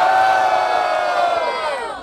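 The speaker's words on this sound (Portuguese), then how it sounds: "palmas pra essa batalha" A loud, dense crowd cheering and shouting at a rap battle in Barueri, a continuous roar of voices close and enveloping that tails off slightly at the end.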